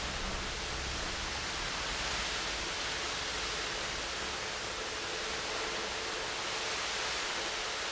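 Static and white noise closing an album, a steady, even hiss with no rhythm or breaks, moderately quiet and unaccompanied by any voice.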